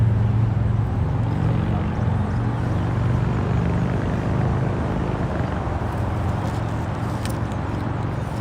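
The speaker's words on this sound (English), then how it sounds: "That aircraft is coming down to depart on 24 left." A Delta Boeing 757-300 departing runway 24 left at Los Angeles International Airport, heard as a loud, continuous broadband jet engine roar that fills the whole stretch.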